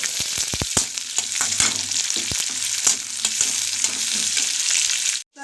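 Medium onions, chopped garlic and green chili frying in oil with cumin and bay leaf, a dense crackling sizzle broken by sharp spoon taps against the pan, close and loud, no speech.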